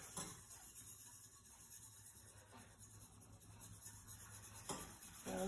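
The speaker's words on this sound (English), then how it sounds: "So I am stirring that as we add the flour in." A spoon stirs flour into mac and cheese sauce in a pot on a stovetop burner, giving soft, steady scraping and rubbing close by with faint clinks, with no talking.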